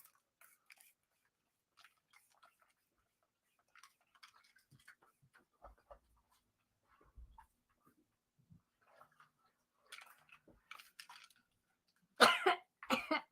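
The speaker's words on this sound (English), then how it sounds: "So we should be coughing, getting rid of those blocks, right?" A woman coughs in a quiet room, with scattered faint throat sounds and soft breaths before a loud close burst of several harsh coughs at the end.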